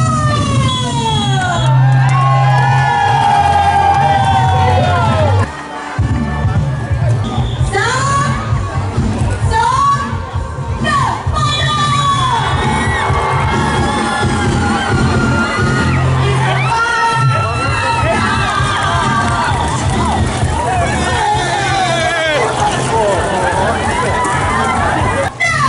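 A large crowd cheers and shouts at the 8th hospital bed pushing race in Pattaya as a siren wails throughout, with someone talking loudly over the noise.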